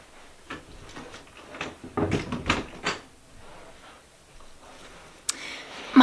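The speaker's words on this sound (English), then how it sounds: "I need to close my door." A nearby room door being closed: a run of light rattling, knocking and latch-like handling noises, then a sharp click and a final thump near the end, close by with no talk.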